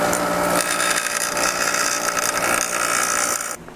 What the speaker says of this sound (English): I'm gonna grind these flat real quick.